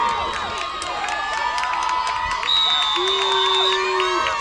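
Crowd at a high school soccer game between PHHS and PHN cheering and whooping, a loud sustained roar with shrill shouts and whistles rising over it, voices of spectators throughout.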